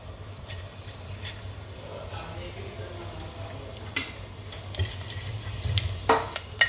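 Soft sizzling of tempering spices frying in hot oil for Tamil chicken kulambu, with stirring scrapes and small pops and crackles growing busier toward the end.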